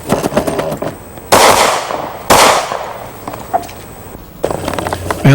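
Galil rifle fired on full automatic by an IDF instructor: two loud, sharp bursts of rapid shots about a second apart, close and dominant, followed by a fainter third burst near the end.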